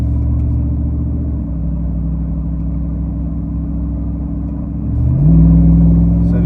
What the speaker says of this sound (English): As soon as I turned it on, you can hear the RPM shoot up.